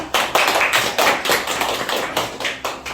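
A burst of audience applause at a business seminar, dense overlapping claps with rhythmic surges, fairly close and loud, no talking over it.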